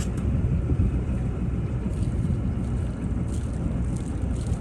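A sailboat motoring forward into the wind on a December crossing from Gosport to Cowes, a steady low engine drone mixed with heavy wind buffeting on the microphone throughout, with no talk.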